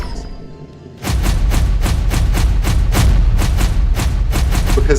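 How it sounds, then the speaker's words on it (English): Fireworks explosion effect in the game Hunt of the Reptorians, a dense run of loud, rapid thumping booms that begins suddenly after a quieter moment and keeps going steadily. "Fireworks."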